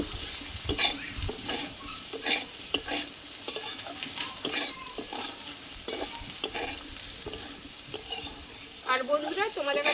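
Green banana curry cooks in mustard oil with steady frying sizzle and repeated stirring clatter of a spoon against the pan, close and continuous throughout, with no talking.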